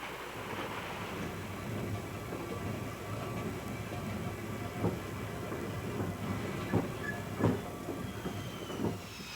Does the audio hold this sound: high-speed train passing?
yes